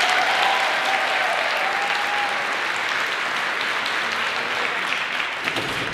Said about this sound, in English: Have a round of applause to Harry and Dad.